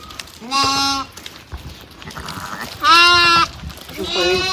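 Sheep and lambs bleat loudly at a livestock market, two long wavering calls close by and a third starting at the end, with farm background murmur between them.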